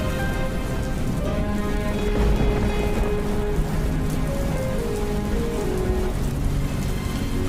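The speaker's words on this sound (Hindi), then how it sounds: "सोनू, ये बारिश तो रुकने का नाम ही नहीं ले रही, इसलिए ये लो छतरी।" Heavy rain pours without let-up as a sound effect in an animated story, a dense, loud, unbroken roar of drops with low rumbling underneath, running steadily through the whole stretch without any voices.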